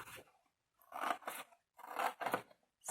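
Scissors snip through paper for a Harry Potter mini album in three or four crisp, rasping cuts, close up, with short quiet gaps between strokes.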